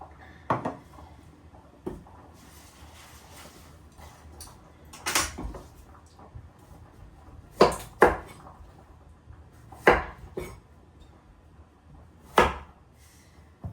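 Vegetables are cut in a home kitchen with a knife striking a board in scattered sharp chops, several louder knocks clustered in the second half, alone and close.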